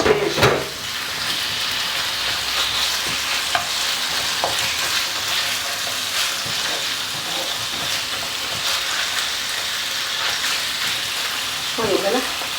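Chicken breast escalope frying in a pan gives a steady, loud broadband sizzle throughout. A few utensil clatters come near the start and the end.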